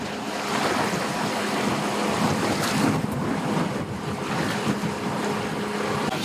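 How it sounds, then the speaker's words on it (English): Strong wind blusters across the microphone by a dock on Lake Tavares while choppy waves wash steadily, with a rumbling boat engine in the distance, a dense continuous roar. "that wind's really blowing"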